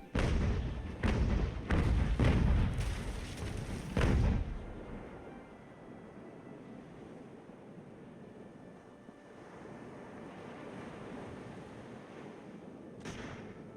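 Ship's cannons firing in the video game Ultimate Admiral Age of Sail, a broadside from a 46-gun ship: several heavy booming shots in quick succession, then a rumbling lull over wind and waves, and one more distant blast near the end.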